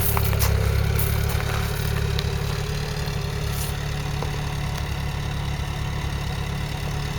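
A Ford Cortina Mk3 engine idles steadily on its original, untouched carburettor, a low, even rumble with slight clatter that holds constant and close throughout, with no talk over it.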